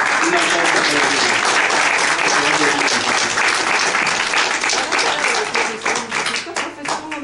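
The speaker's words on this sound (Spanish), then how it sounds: "Una aplauso para ellos." An audience applauds during a Spanish-language television program, dense and loud clapping that holds steady before thinning into scattered individual claps near the end, with a little talk mixed in.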